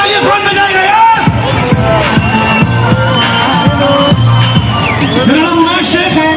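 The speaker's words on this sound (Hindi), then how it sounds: "मेरे लिए तालियां कौन बजाएगा यार?" A crowd at a Pakistani night event in Jeddah, Saudi Arabia cheers, whoops and shouts loudly around a lively hubbub, with voices on top of the noise throughout.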